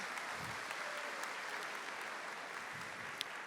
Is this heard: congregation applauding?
yes